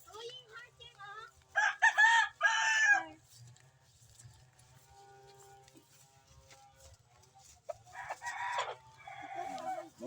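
Backyard chickens cluck in short bursts while a rooster lets out a loud crow early on, then more clucking and calls later, nearby and fairly clear, with a voice talking quietly in between.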